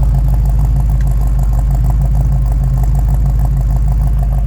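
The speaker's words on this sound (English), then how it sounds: "That's the way this Mustang always sounds." A warmed-up 1966 Ford Mustang coupe with a 289 V8 idles nearby, giving a loud, steady, low rumble with an even pulsing beat throughout.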